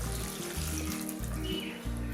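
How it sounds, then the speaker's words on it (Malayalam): Hot water poured into a pressure cooker to rinse it while making Kerala beef stew: a soft continuous running-water splash with a low, pulsing rhythm, fairly faint and close, with no speech. "അപ്പോൾ ഇതിലേക്ക് കുറച്ച് ചൂടുവെള്ളം ഒഴിച്ചിട്ടാണ് ഞാൻ കഴുകുന്നത്."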